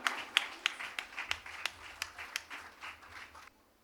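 An audience applauds at a young dancer's Gejje pooja dance program, around a dozen sharp, evenly spaced claps that sound sparse and fairly faint, stopping abruptly near the end and leaving near-silence.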